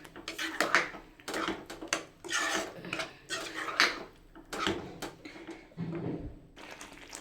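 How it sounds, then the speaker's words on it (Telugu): Butter chicken curry with crushed kasuri methi being stirred in a pan, a spoon scraping and clinking against the metal in irregular bursts, close and fairly quiet, with no talking. "ఇదంతా ఒకసారి కలిపేసుకోండి"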